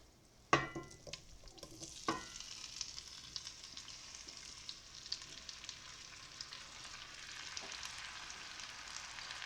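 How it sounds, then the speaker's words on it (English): A loud clatter as vegetables drop into a hot pan, followed by a steady, bright sizzle with occasional stirring sounds, close and without talk. "Oh, you hear that sizzle?"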